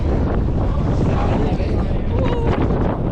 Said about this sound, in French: Un petit peu plus de vent par ici.